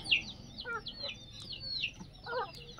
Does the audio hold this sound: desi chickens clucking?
yes